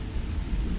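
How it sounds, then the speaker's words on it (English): Rain and a low thunder rumble in a dark, stormy scene in the video game Starfield, a brief steady patter with a deep rolling undertone and no speech. "Sarah Morgan, it is raining, it is dark, and it looks like lightning"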